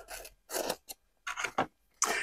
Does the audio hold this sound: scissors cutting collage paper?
yes